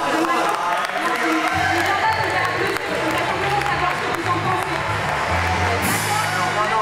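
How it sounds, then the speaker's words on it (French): Audience at a theatre performance applauding and cheering, a loud dense roar of clapping mixed with crowd noise and whoops, with voices talking over it throughout. "on peut l'applaudir parce que c'est très courageux"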